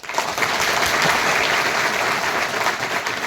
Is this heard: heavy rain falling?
no